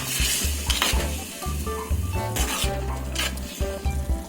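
Cauliflower sautéing and stirred in a pan, with a bright continuous sizzle, scraping of a utensil and occasional clinks of metal cookware close by.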